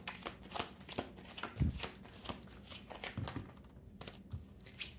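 A deck of tarot cards is shuffled close up in a quiet room, with soft repeated riffling flutters and light taps in an uneven rhythm, no voice present.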